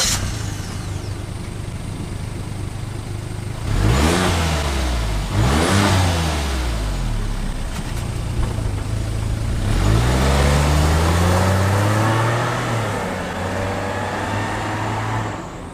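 Suzuki Jimny JB64W on its stock muffler at medium speed: a steady exhaust hum broken by three rising revs, the last one held as a sustained higher drone, heard up close with no talking.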